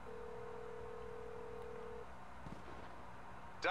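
A guest service telephone in the video game GTA 5 Online gives a steady held tone for about two seconds, then after a pause a short, louder warbling ring bursts in at the end.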